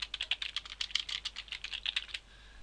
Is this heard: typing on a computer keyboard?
yes